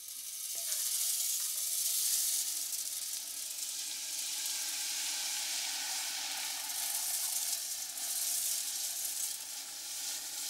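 Liquid nitrogen tipped out of a large thermos-like container and boiling rapidly at room temperature gives a steady, broad, airy hiss that holds for the whole stretch with no voices.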